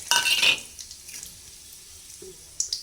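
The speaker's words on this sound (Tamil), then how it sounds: "இப்போ எண்ணெய் சூடாயிடுச்சு அது கூட ரெண்டு வரமிளகா கட் பண்ணி வச்சுருக்கேன் சேர்த்துடலாங்க" Dried red chillies dropped into hot oil for a drumstick-leaf poriyal give a sharp half-second burst of sizzle, which then dies to a faint crackle with a couple of small clicks near the end.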